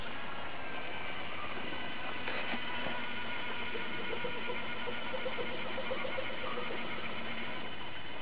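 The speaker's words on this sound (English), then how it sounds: "Now if you look at the tiny little motor, and it really is a tiny little motor" A tiny electric motor drives a converted pneumatic RC model retract, giving a steady close-up whirring and ratcheting gear noise with faint clicks throughout.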